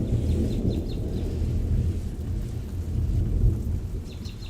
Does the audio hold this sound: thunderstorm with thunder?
yes